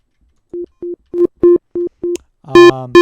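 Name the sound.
distortion plugin applied to synth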